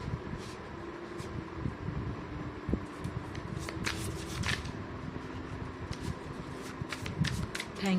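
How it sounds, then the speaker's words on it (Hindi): A deck of tarot cards being shuffled up close makes a continuous papery riffle and rustle, with flicks and snaps of the cards all the way through. "इतनी शफलिंग के बाद भी रिपीट हो जाते हैं कई बार कार्ड्स"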